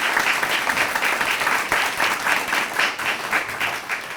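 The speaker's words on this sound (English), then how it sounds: "Would you please give a round of applause for Catherine Manning, Carrie Dunn, Harry Fo" An audience at a Lexington Lyceum Advocates panel event claps for the panelists, a brief, steady burst of dense, fairly loud indoor applause.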